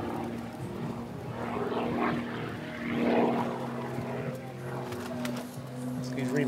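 A light, fast remote-control aerobatic model airplane flies figures at a competition freestyle event, its propeller buzz rising and falling at a distance while people talk over it.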